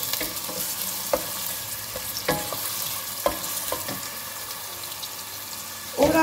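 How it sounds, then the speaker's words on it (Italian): Onion sautéing in olive oil for a zucchini and wurstel risotto, a continuous sizzle broken by regular spoon scrapes and clicks, close and fairly loud. "Facciamo soffriggere la cipolla nell'olio"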